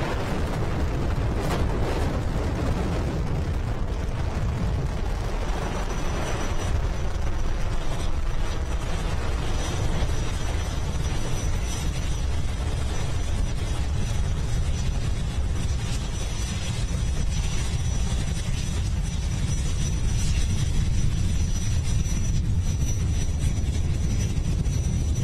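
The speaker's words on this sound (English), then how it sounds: "Liftoff of Falcon 9 is the world's first reflight of orbital class rocket." A Falcon 9 rocket on the first reflight of an orbital-class booster lifts off, giving a sustained broadband roar with rumbling low end and crackle that holds steady and loud throughout, heard from a distance with no talking.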